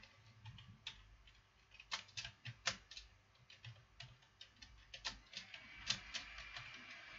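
Quiet computer keyboard typing: irregular clusters of crisp clicking keystrokes, close and faint, with brief pauses between bursts and no talking.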